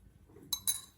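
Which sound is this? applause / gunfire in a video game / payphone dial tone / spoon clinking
spoon clinking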